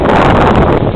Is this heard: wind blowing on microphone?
yes